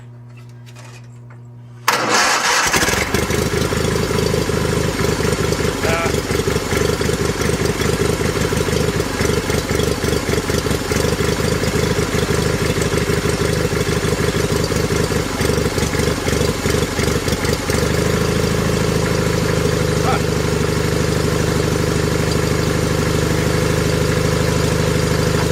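A John Deere 318 lawn tractor engine cranks briefly and catches, then settles into a loud, steady idle with a throbbing low rumble that continues close by for over twenty seconds, shifting pitch slightly near the end.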